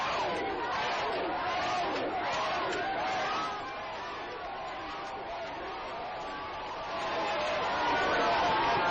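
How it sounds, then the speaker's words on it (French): A street crowd in Sangoya, Guinea, cheers the president as he passes, a dense, steady roar of many voices that dips slightly midway and then swells again, with shouts and chatter mixed throughout. "Sur le chemin du retour, le président s'est fait acclamer dans les rues de Sangoya."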